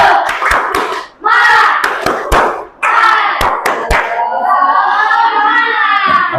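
A school class claps out a rhythmic 'tepuk semangat' cheer, sharp patterned handclaps in quick bursts, mixed with loud children's voices chanting along.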